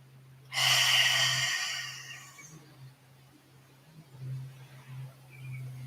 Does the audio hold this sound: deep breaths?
yes